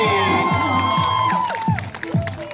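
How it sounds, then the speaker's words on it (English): Crowd at an outdoor street dance show whoops and cheers loudly and continuously, with shouts rising and falling around a performer's amplified voice. "No, crowd, make some noise."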